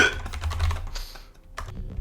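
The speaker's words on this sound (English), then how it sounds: "typing the code." Code being typed on a computer keyboard: a steady, rapid patter of close key clicks with a brief pause, no voices.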